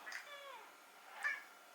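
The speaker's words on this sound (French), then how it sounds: "Pas juste de miaou comme ça." A pet cat named Fudge lets out a short, faint meow with a rising-falling pitch, followed by a brief softer chirp, heard close by in a quiet room.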